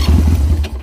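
A Chinese 250cc ATV that had sat unrun for about ten years runs in gear. Its engine makes a brief, close, low, throbbing rumble that is steady and loud, then cuts off abruptly.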